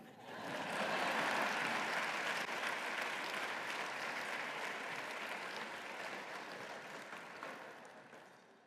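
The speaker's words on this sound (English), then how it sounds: "Clapping wouldn't be awkward." A gala audience bursts into steady applause, a dense wash of clapping that swells quickly, holds for several seconds, then gradually fades.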